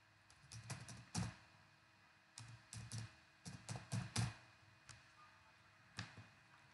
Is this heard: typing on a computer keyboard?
yes